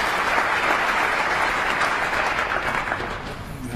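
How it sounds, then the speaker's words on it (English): Audience applause at a 2007 Masters snooker match, a warm, steady round of clapping filling the arena and holding at an even level throughout. "Generous round of applause."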